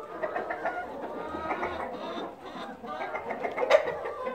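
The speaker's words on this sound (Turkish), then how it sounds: "Tavukların birkaçında öksürük, tıskırık var" Several chickens clucking and murmuring close by in a coop at night, a few of them coughing and sneezing, overlapping soft calls with an occasional sharper squawk.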